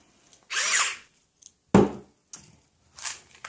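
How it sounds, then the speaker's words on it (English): Electric salt or pepper grinder running in short bursts, a buzzing motor whir with a gritty crunch, close and loud, separated by quiet gaps. "Don't you love my electric salt or pepper grinder?"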